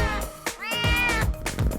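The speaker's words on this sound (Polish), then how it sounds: "Twój pierwszy kotek musisz mu wymyślić jakieś imię." A kitten meows in a few close, clear, drawn-out calls, one long wavering cry in the middle, with no talking.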